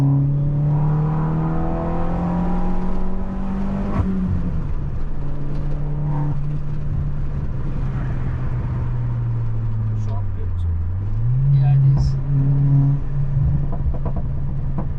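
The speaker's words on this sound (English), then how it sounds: "they can just hear how this car sounds in the corners" Opel Corsa OPC hot hatch engine heard from inside while cornering, a steady droning hum that rises and falls gently with throttle, with a brief dip and swell mid-way and faint clicks, people talking quietly over it.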